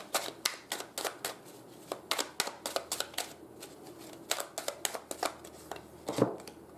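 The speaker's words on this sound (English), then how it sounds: "I'm going to pull some chakra love cards for you" Chakra love oracle cards are shuffled close by in a quick rhythmic series of crisp riffling snaps, repeating steadily throughout with no talking.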